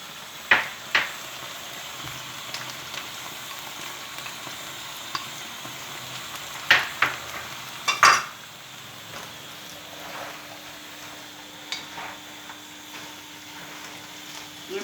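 Liver frying with garlic and red onions in a home pan, a steady soft sizzle with occasional sharp scrapes and knocks from stirring, close up, no talking.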